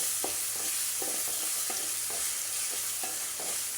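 Mustard seeds and lentils tempering in hot oil, a steady bright sizzle with small regular scraping stirs of a spoon, close and continuous with no voices.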